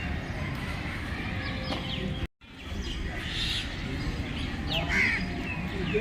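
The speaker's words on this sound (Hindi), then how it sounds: "यहाँ पर ये चिड़िया बैठी हुई हैं और दाना चुग रही हैं।" Birds calling around the old stone tombs of Hauz Khas Fort in Delhi, with crow-like caws and chirps scattered over steady outdoor ambience, briefly cut by a short silent gap.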